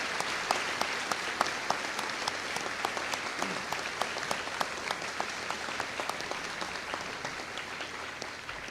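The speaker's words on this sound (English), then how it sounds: "Please join me in giving our veterans a well-deserved round of applause." At a high school Veterans Day remembrance, the audience claps for veterans in steady, moderately dense applause with distinct individual claps standing out, continuing evenly for close to nine seconds.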